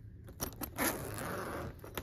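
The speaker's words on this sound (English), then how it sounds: "I'm just unzipping it" A hard-shell suitcase zipper is pulled in a few short, scratchy bursts, close and fairly quiet, with small rustles between.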